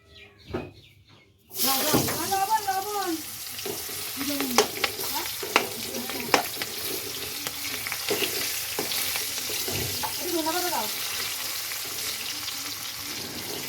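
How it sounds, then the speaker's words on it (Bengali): Steady loud sizzling of onions frying starts abruptly and continues throughout, with scraping stirs and a voice talking intermittently over it. "পেঁয়াজ ভাজবো"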